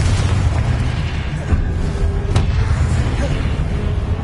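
A Confringo spell explosion in the video game Hogwarts Legacy, a dull boom with a sharp burst midway, set against a continuous rumbling wash of combat noise.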